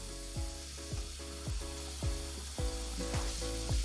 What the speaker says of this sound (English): use our scrubbing brush to try to clean our iron skillet